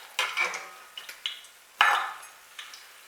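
A bush donut being flipped in a cast iron pan: a few close metallic scrapes and clinks of a utensil against the iron, with short gaps between them and a faint hiss beneath.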